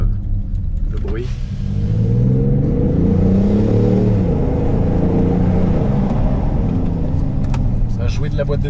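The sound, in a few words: BMW X5 M50d diesel engine revving uphill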